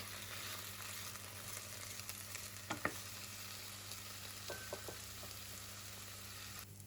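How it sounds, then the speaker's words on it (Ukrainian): Mushrooms and onion fry in a pan as they are stirred: a steady, close sizzle runs throughout, broken by a few brief clinks and scrapes of the utensil around the middle. "тоді вкидаю до них цибулю і помішуючи, підсмажую, доки вона трішки не зарум'яниться"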